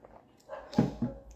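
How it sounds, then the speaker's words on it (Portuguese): A neighbour's dog gives two short, close barks, with a faint whimper just before. "Vocês estão escutando o cachorro"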